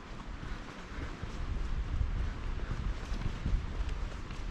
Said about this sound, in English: It's definitely getting windy, or it sounds windier here by the bluff.